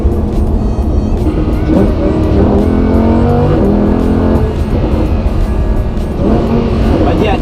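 Lamborghini Huracan engine in sport mode accelerating on a California road, a loud rising roar with repeated revving sweeps and gear changes heard from inside the car, continuous throughout.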